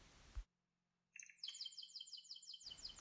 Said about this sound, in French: Soudain, César s'arrêta de chanter